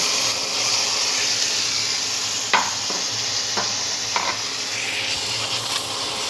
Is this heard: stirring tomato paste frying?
yes